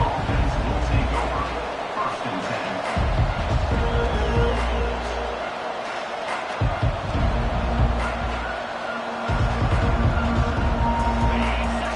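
Loud football stadium crowd roaring continuously against the offense, a dense wall of hubbub that surges and dips for several seconds, with a commentator talking over it.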